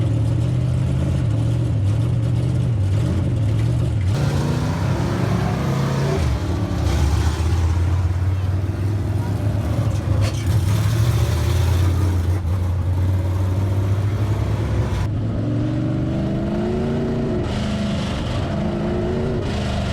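A-modified race car engine running rough, its mid-pitched drone wavering and surging unevenly in pitch throughout, loud and close with no talk over it.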